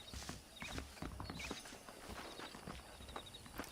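Saddled horses in Red Dead Redemption on Nintendo Switch clip-clop quietly and repeatedly in an uneven walking rhythm, with a soft tack-like rattle between hoofbeats and no talking.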